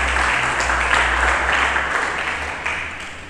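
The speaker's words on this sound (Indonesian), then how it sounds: "Mari kita berikan tepuk tangan bagi Yesus." A church congregation applauds. Dense clapping holds steady, then slowly fades over a low hum, with no voice over it.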